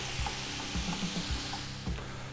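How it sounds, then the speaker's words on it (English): Beer splashed into a hot pan of ground beef to deglaze it, giving a steady soft sizzle with a few low knocks of stirring, close and without talk. "we're going to use a little bit of beer to deglaze the pan"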